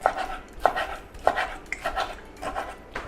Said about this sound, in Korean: 이렇게 오징어를 채를 썰을 거예요